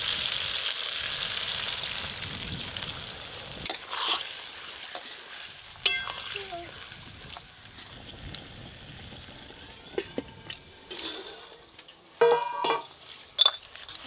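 Potato, cauliflower and pea curry with kasuri methi sizzling in a pan, a steady frying hiss with spatula stirring and clinks against the pan, close, with water poured in near the end.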